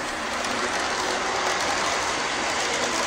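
A Dash model locomotive rolls along a model railway layout, making a steady, continuous rumbling whir that holds at an even level, close and loud, with no voices.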